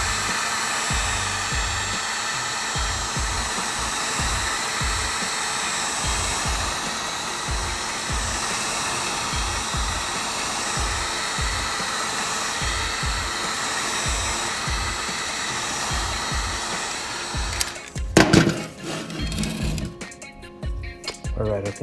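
A heat gun blows a steady, loud whoosh while heating vinyl wrap on the front badge of a 2018 Honda Accord 2.0, running continuously before cutting off near the end, followed by a few handling clunks.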